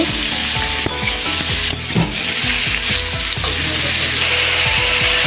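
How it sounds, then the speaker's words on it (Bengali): Sliced snake gourd frying in a pan in a home kitchen sizzles steadily while a utensil stirs it with repeated scraping knocks against the pan, close and fairly loud, with no talking. "চিঁচিয়েটা দিয়ে ভালো করে একটু নাড়াচাড়া করে নেব"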